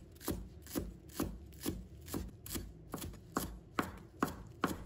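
Knife chopping fresh cilantro into short pieces on a cutting board, about a dozen crisp, evenly spaced strikes at a steady rhythm, close and alone.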